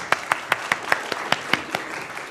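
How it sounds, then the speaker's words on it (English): A small class, the PELC 12 group, gives a short round of applause: about a dozen separate, evenly spaced claps from a few people nearby, with no talking over them. "could you please go a little round of applause for that?"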